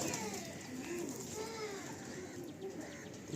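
Madrasi pigeons coo softly in a busy loft, their low rolling calls overlapping against a constant background hubbub with faint voices.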